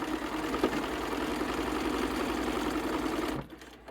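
A sewing machine stitches a pieced quilt block, a steady loud motor whir with a rapid needle patter running continuously for over three seconds before stopping abruptly near the end.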